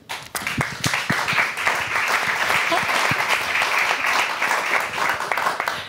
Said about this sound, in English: you also have to give them an applause, so you have to keep on clapping